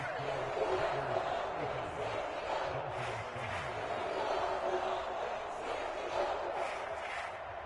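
Crowd noise in a Madden football video game: a steady, dense stadium roar of murmuring voices that holds at an even level throughout, with some faint voice-like babble mixed in.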